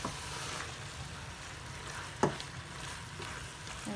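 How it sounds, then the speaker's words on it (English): Pumpkin stuffing fries in a pan with a soft, steady sizzle and crackle, close but quiet, broken once by a brief clatter of a utensil stirring against the pan. "And while this is frying"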